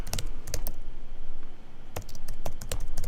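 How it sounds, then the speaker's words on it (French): Keys clack on a computer keyboard in quick bursts of typing separated by short pauses, close and fairly loud, with no voices. "je tape Imposition Imprimerie"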